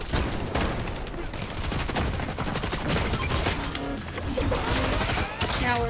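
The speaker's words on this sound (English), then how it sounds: "I'm gonna go shoot that bot." Rapid automatic gunfire from a Fortnite Zero Build duos match as a player shoots at a bot, a continuous loud burst of overlapping shots with metallic clinks and game effects toward the end.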